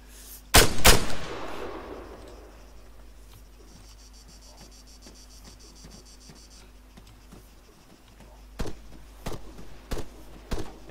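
Enemy gunfire in the Arma 3 video game: a loud burst of two or three close shots at the start, then a quiet stretch with insect-like ambience, followed by four or five sharp single shots spaced out near the end.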